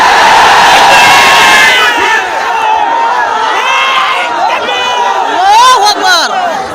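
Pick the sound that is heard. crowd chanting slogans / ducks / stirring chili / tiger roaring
crowd chanting slogans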